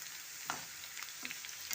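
Onions fry in oil for a tadka for kadhi pakora curry, a steady soft sizzle with a few faint stirring scrapes, heard close but quietly and with no voices.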